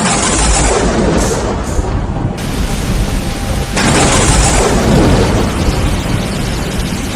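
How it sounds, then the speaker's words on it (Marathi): Steady heavy rain and gusting wind roar throughout in a forest, with deep rumbling booms that swell and fade like thunder. "त्या जंगलामध्ये खूप जोऱ्याचा पाऊस वारा आणि विजा होत होत्या"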